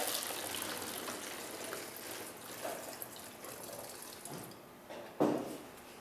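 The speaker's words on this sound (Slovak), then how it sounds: "Nalejeme tam vodu približne do polovice." Water poured into a container in a classroom, a soft running splash building in brief bursts, with louder gushes near the end.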